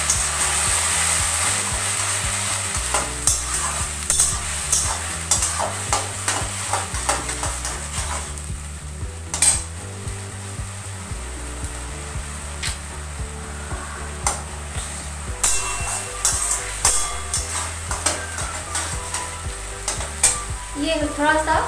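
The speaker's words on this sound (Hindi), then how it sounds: "जो पालन साग है जो मैंने मिक्सी में उसको एक साथ पीस के रखे थे, ये डालेंगे" Ground spinach puree for palak paneer sizzles in a hot pan and is stirred, with a steady frying hiss broken by repeated scraping strokes of the spoon, close and fairly loud.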